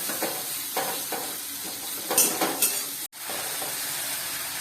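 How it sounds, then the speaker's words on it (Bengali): Onions frying in a pan for a shrimp and ridge gourd dish, a steady sizzling hiss with a few louder bursts of stirring, close and alone without speech. "পেঁয়াজগুলো ভাজবো। পেঁয়াজগুলোকে একটু বেরেস্তা টাইপের করবো।"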